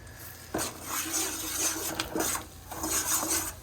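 A ladle scrapes and stirs semolina in a kadai, with repeated rasping strokes against the metal pan, close and steady, with no talk.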